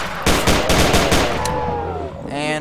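Several rapid bursts of Luger pistol fire from the German handgun in Garry's Mod, loud and close in a quick cluster during the first second and a half, followed by a person talking over the fading noise.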